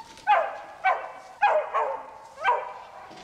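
A dog barks indoors in a quick series of five sharp, fairly close barks with brief gaps between them, heard on its own.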